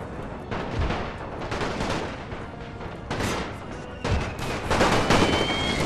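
Gunfire in The Great War Romania strategy game, with dense bursts of rifle and artillery shots and booms crackling in irregular volleys that grow louder toward the end.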